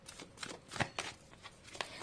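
Tarot cards are shuffled in quick, soft riffling bursts, several brushing flutters in a row, close and fairly quiet with no talking.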